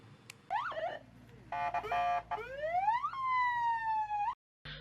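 A siren cycles through rising and falling electronic wails and yelps, loud and close, then cuts off abruptly near the end.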